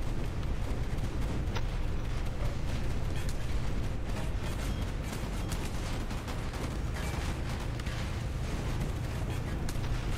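A torpedo strikes and sinks a destroyer in the naval game Boat Crew, a dense, continuous rumble of blasts and mechanical roar holding steady and loud throughout.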